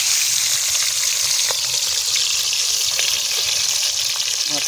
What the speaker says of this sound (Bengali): এবার মাছটা ভাজতে দিয়ে দেবো